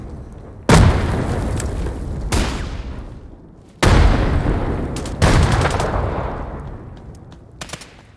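Frag grenade explosions and heavy gunfire in the shooter Hired Ops, with several loud, sharp blasts spaced a second or two apart, each trailing off in a long decaying rumble.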